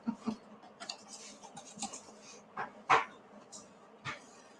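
A dog barks and yips in short, faint bursts at a distance, some sharper than others, spread through a quiet indoor scene.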